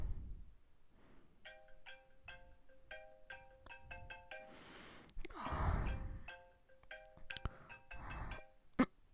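A phone ringtone plays a repeating pattern of short electronic tones at a moderate level, over soft breathing and rustling, with a few louder handling bumps near the end.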